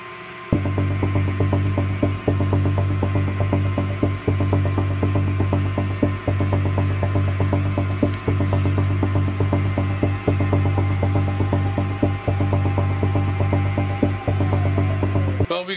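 Lathe running steadily while facing the end of aluminum piston stock, a continuous mechanical hum with a rapid, regular clicking rattle, close and loud throughout with no talking.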